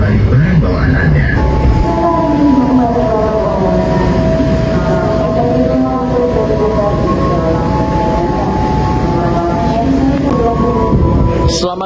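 The Madiun Jaya train pulls into track 4 at Sragen station with a steady, loud mechanical rumble throughout, and voices and tonal sounds carry over the noise of the arriving train.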